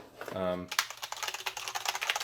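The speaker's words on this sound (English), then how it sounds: "It is mechanical, but it's not too clicky like some of the gaming keyboards." Rapid, uneven keystrokes on a Cherry MX Board 6.0 mechanical keyboard, moderately clicky, close and clear, following a brief low hum at the start.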